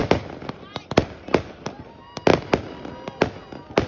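Fireworks exploding at a warm beach firework show: a rapid series of loud sharp bangs and crackling bursts, roughly a dozen in under four seconds, with irregular spacing.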